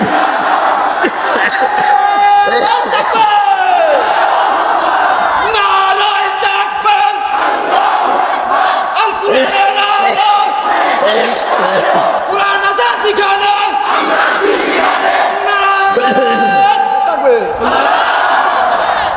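A large rally crowd roars a takbir chant in unison, repeated waves of loud massed shouting and yells that rise and fall continuously, with a leading voice calling out between the responses.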